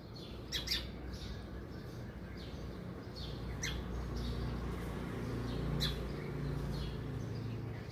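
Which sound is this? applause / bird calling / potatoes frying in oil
bird calling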